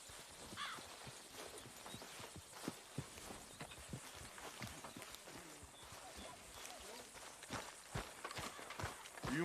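Horse hooves clip-clop at a steady run on a dirt path in a Western-style video game, rhythmic and close throughout, with occasional faint voices in the background.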